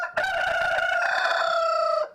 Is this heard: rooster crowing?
yes